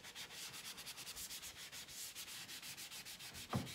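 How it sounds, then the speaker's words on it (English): Light hand sanding over a transfer on painted furniture, distressing it in a steady series of short back-and-forth strokes, close and fairly quiet, with a brief soft knock near the end and no talking. "So I'm just going to show you how to distress the transfer without ruining it."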